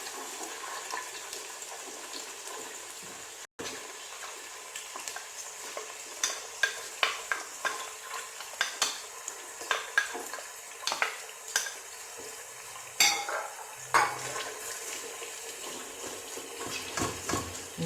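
Onions frying in a pot for Moroccan couscous, with a steady soft sizzle and repeated scraping stirs of a utensil against the pan, close and moderately quiet.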